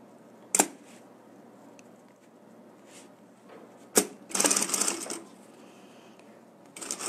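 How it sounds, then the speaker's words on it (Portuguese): Sewing machine stitching a wallet in bursts: a sharp clack, then short whirring runs of stitching near four to five seconds, separated by quiet handling sounds, with no talk. "Já vou bater uma costurinha aqui também"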